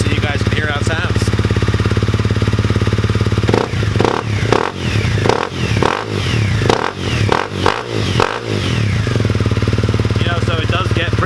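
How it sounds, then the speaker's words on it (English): A 2017 Honda CRF250L motorcycle idles roughly after a cold start, then its engine is revved several times in a series of sharp, loud bursts before settling back to a close, clattering idle. "I'm going to give it some revs so you guys can hear how it sounds."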